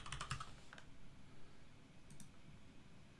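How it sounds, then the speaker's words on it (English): Fingers type a name on a computer keyboard in a quick burst of close, quiet clicking keystrokes, followed by a pause and a few more scattered key taps. "type in your name."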